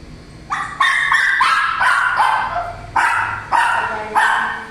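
A dog barks repeatedly and loudly close by, quick excited yaps in bursts with short gaps between them.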